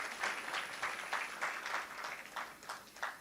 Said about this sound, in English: So let us clap hands for that